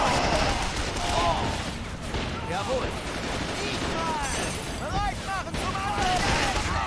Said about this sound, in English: Why is this vehicle firing this way?